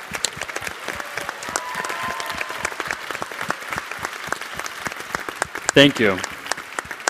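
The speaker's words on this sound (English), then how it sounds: "Big round of applause." Sustained audience applause for youth participants at an event on youth involvement in the HIV response, steady clapping throughout with a short spoken thank-you near the end.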